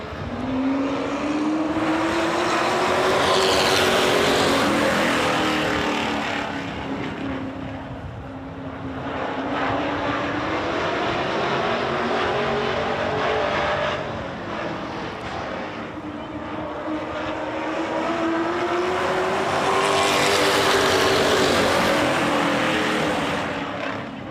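Several race trucks roar loudly in a pack at the start of a heat on an oval track, engine pitch rising and falling as they come out of a corner, sustained and close throughout.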